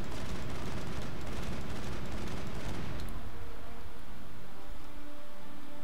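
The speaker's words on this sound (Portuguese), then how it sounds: "Nossa metralhadora tem um pouco mais de precisão aqui para destruir." Dense, loud machine gun fire and rumbling explosions from the Mass Effect video game, a sustained roaring barrage that thins after a few seconds into scattered blasts and battle noise.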